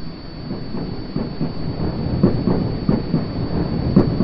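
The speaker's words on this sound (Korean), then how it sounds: "열차?" A train runs on rails in the Korean game 회색정원, its wheels giving a steady rhythmic clickety-clack over a constant rumble and a thin high hum, close and fairly loud with no talk.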